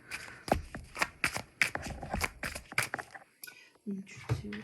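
Tarot cards riffle and slap in quick bursts, close up, with a voice speaking over the shuffling.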